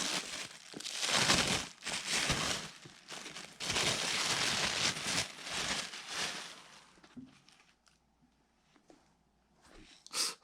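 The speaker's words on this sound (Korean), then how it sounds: "보호종이도 뜯어서" Protective paper being peeled and torn away from a pair of new Jordan 11 Low Metallic Gold sneakers, close and crinkly in long rustling bursts, then quieter handling with a brief rustle at the end.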